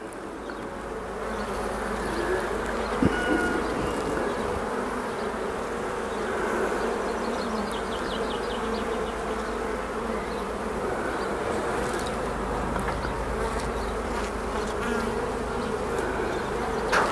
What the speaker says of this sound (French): Beaucoup de jeunes abeilles en tout cas, toutes jeunes, avec le dos gris